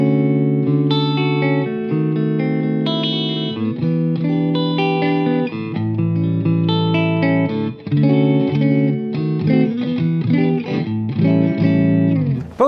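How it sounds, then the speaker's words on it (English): A clean electric guitar on a dual-P90 instrument with both pickups engaged plays a sustained, chordal passage with steady, close, full-bodied ringing notes and no talking. "when both pickups are engaged in a dual pickup P90 guitar, you get a very woody kind of sound"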